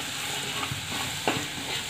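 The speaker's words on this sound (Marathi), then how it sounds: "मिरची छान लाल तळून घ्यायची आहे।" Red chillies fry in hot oil in a kadhai for Marathi spinach bhaji, giving a steady soft sizzle with a faint stir or two, close and quiet with no talking.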